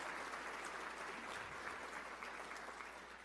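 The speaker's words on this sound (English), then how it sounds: "let's give them a round of applause" An audience applauds for veterans at a public talk, a dense steady wash of clapping from many hands, sounding somewhat distant and lasting the whole few seconds.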